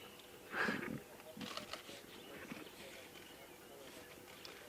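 A lion cub of the Nkuhuma pride in South Africa gives short growling calls, one louder burst near the start followed by softer ones, heard at moderate distance under a guide's voice.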